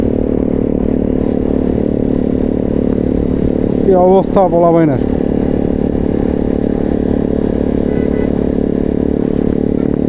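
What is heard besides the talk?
150cc motorcycle with loud aftermarket exhaust revving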